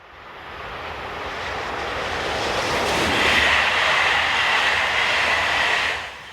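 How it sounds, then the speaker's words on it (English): A locomotive, number 22311, passes on a European railway line heading north, a loud rising roar that swells, holds at a peak and then drops away as it goes by. "Sister locomotive number 22311 heads north in the opposite direction."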